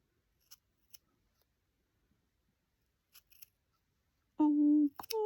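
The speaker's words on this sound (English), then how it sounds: "Love the sound of sharp scissors." Sharp scissors snip through hand knitting in a quiet room, a few crisp separate cuts spaced apart, followed by a short voice sound near the end.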